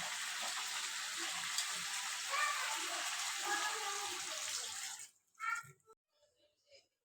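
Water poured into a pot of simmering chicken curry, a steady close rushing pour for about five seconds that stops abruptly, followed by a few faint clinks and splashes.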